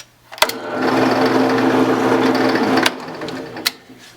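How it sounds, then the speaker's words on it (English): A power drill starts with a click and whirs steadily for about two seconds drilling a hole in wood, then stops, followed by a couple of sharp knocks. "for some holes I'm about to drill and countersink"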